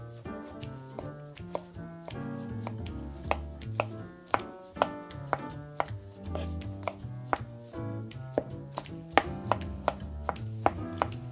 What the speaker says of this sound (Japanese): 軽く切ったらもう少し細かくします。